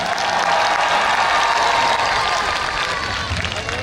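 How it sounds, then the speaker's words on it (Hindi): A big crowd at an event with a mushaira to follow bursts into sustained, dense applause as a rehearsal, with scattered cheering inside a loud, even roar of clapping that holds throughout and starts fading slightly near the end. "मेरी बात भी ठीक लगी हो तो एक बार ताली बजावा की रिहर्सल कर सको।"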